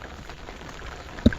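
Steady rain falling outdoors over farm fields in the morning, a soft continuous patter held at a low level throughout, with one brief sharp tap or knock near the end.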